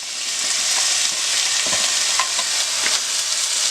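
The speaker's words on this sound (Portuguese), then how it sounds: "E vamos fritar ela até que ela comece a ficar transparente" Chopped onion sizzling and crackling in hot olive oil, with occasional stirring scrapes, close and continuous without any talk.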